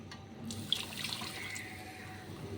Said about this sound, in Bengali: এক কাপ মতন জল দিয়ে দিচ্ছি